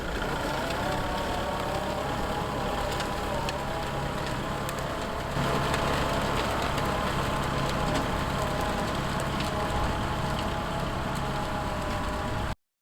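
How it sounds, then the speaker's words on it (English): A tractor pulling a disk across a garden field drones steadily for the whole stretch, a continuous mid-distance engine hum mixed with broadband grinding noise, slightly louder partway through. "this whole section right here is just me disking my first pass on our garden"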